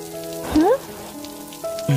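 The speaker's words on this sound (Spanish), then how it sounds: "No deberías estar afuera, en la lluvia así." Rain falls steadily in an animated scene, a soft constant hiss running beneath brief swooping tonal effects.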